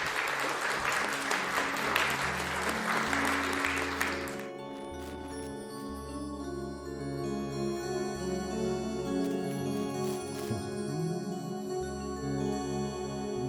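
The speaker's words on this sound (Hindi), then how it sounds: "एक बार ज़ोरदार तालियां हमारे सभी कलाकारों के लिए" Applause from a concert audience at a musical tribute rings out for about four seconds, then gives way to sustained music with steady tones and a pulsing low accompaniment.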